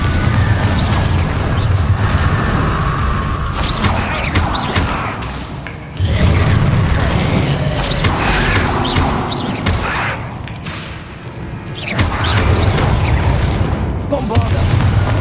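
The Bombarda explosion spell in Hogwarts Legacy, heard as repeated loud booming blasts with dense rumbling thuds in sustained bursts, swelling again after each short dip.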